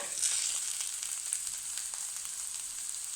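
Onions sauté in hot oil in a pan with red chilli powder and coriander powder, giving a steady, close sizzle with bright crackling hiss and faint stirring scrapes throughout, no voices present.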